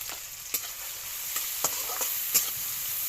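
Cabbage and prawns frying in a pan, giving a steady, hissing sizzle with a few scraping clicks as the ingredients are stirred. No one speaks.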